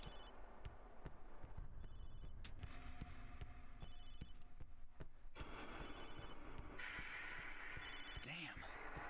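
A cell phone in Resident Evil 7 rings in recurring bright electronic trills over a heavy, throbbing game ambience, with occasional mechanical clanks and someone talking over it.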